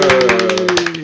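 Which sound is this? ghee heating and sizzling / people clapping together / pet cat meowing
people clapping together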